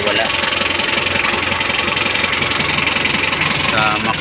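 A 2008 Hyundai Porter truck engine runs loud and close with a steady rough diesel-like chatter and vibration, held at a fairly even rev without clear surges.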